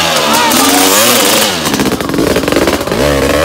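A vintage motocross motorcycle revs hard up close during a race, its engine note rising and falling in a loud, continuous blat that briefly dips before surging again.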